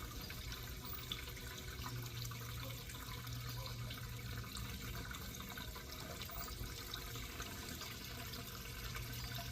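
Gasoline gushes fast from a TuffJug gas jug's high-flow nozzle into a mower or vehicle tank, a steady, dense liquid rush that holds level throughout, close and continuous with no talking.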